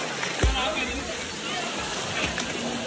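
Bhalugarh Waterfall pours into a deep pool, heard as a constant broadband rush of falling water with a brief splash or knock near the start, steady and fairly close.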